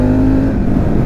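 A Harley-Davidson Pan America 1250 motorcycle engine revs during a test ride, a brief loud, low rumbling drone close to the rider.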